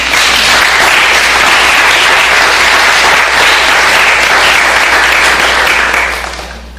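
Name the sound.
congregation applause in church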